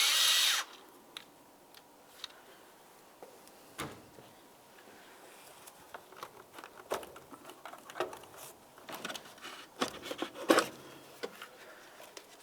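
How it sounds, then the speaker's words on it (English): A hose clamp on the throttle body tube of a 2010-2013 Ford Transit Connect is loosened with a flathead screwdriver or 7mm socket, giving sporadic close metallic clicks, taps and scrapes over a quiet background with no talking. "We're going to loosen this clamp just enough that we can slide the tube off of the throttle body"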